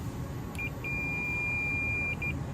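Fluke multimeter continuity test on a BMW EGR valve connector: a short chirp, then a sustained high beep lasting over a second, followed by two quick blips as contact breaks and returns.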